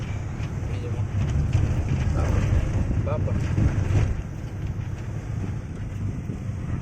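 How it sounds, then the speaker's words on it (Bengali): Strong wind rushes and buffets into a moving car, a loud continuous roar with low rumble, no talking. "কত হাওয়া হচ্ছে গাড়িতে"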